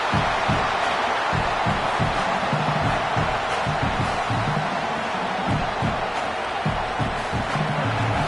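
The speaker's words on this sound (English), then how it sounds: "this crowd is fired up. Listen to this noise here." In the video game College Football 27, the loud, steady roar of a large stadium crowd at an LSU versus Mississippi State game, continuous and dense throughout, with rhythmic low thumps beneath the noise.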